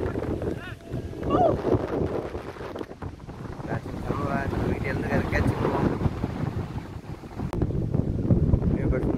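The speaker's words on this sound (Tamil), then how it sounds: "காத்து பயங்கரமா அடிக்குது" Strong wind gusts across an outdoor TNCA cricket ground in Theni during a Nellai versus Madurai match, making a continuous loud rumbling roar and buffeting the microphone, with indistinct voices faintly underneath.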